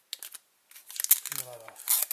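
Protective plastic film tears and crinkles as it is peeled off a brand-new Apple TV unit, close and crisp, in two bursts separated by a short pause, with a faint voice murmuring partway through.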